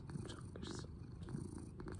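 A cat purrs steadily and close up while its chin is being scratched, a soft continuous rumble with no talk over it.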